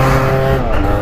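A small motor scooter engine revs hard and close for about a second during a wheelie attempt, a loud, buzzing roar that wavers slightly in pitch.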